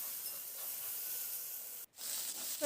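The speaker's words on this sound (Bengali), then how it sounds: "সোয়াবিনটাকে একটু ভেজে নেবো" Soybean chunks frying in hot oil with salt, giving a steady soft hiss and sizzle, close and quiet, with one brief break near the end.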